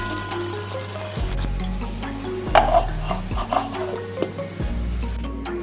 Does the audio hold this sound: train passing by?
no